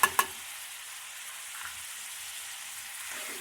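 Kaleji (liver) frying in a pan with tomato paste, black pepper and salt, a soft steady sizzle after two sharp clanks at the start, close and with no talk.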